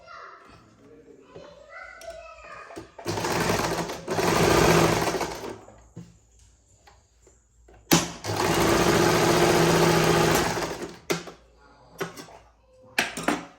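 Electric sewing machine stitching a saree blouse, two loud sustained whirring runs of a few seconds each, close up, with short pauses, clicks and handling noises between and a voice talking in the quieter moments.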